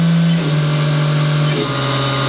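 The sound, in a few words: Haas Super Mini Mill spindle running down from 10,000 RPM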